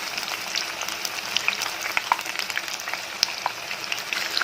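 Chicken 65 pieces deep-frying in hot oil, a continuous close sizzle sprinkled with sharp crackles and pops throughout, with no voices.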